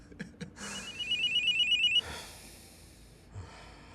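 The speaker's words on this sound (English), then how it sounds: "Pick up the phone." A telephone rings with a short electronic trill lasting about a second and a half. It is fairly quiet and gives way to soft room noise.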